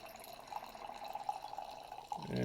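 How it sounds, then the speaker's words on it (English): Members Mark 2018 Malbec red wine poured into a glass, a quiet steady trickle with faint dripping and a rising fill note near the end. "we're going to go ahead and pour this"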